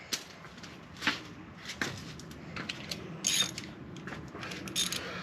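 A ratchet or screwdriver works the worm clamps on a cold air intake during an SVE Fox Body install, giving scattered clicks and mechanical creaks at close range, intermittent and fairly faint against a hum.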